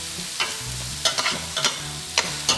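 A spoon scrapes and stirs souvlaki sauce in a very hot pan, giving several close, irregular strokes with light sizzling over a low steady hum, and no talking.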